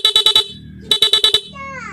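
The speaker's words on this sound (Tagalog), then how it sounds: "Pag pindot mo yung busina mo, ganun yung tunog niya." Motorcycle horn wired through an interrupter horn relay, giving two bursts of rapid staccato beeps, about five pulses each, loud and close, separated by a short gap with a faint engine-like hum underneath.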